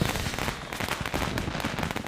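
Firecrackers bursting at a birthday celebration, a dense rapid crackle of sharp pops running continuously and loudly throughout.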